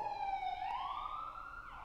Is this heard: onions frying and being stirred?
no